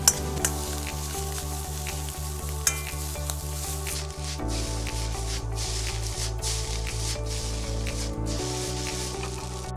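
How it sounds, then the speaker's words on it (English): Noodles and bean sprouts stir-fry in an oiled pan with soy sauce, a steady close sizzle with scraping and tossing that runs throughout, under a looping backing track. "Add the bean sprouts and stir fry to prepare."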